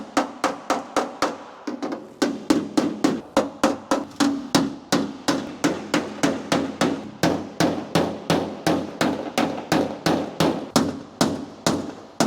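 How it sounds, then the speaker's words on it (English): Steady, rapid metallic hammer blows ring out close by, a regular rhythm of sharp strikes with brief pauses, as a hammer and dolly straighten a dented sheet-metal door panel on a mini truck. "I'm just going to do a little hammer and dolly and straighten this out."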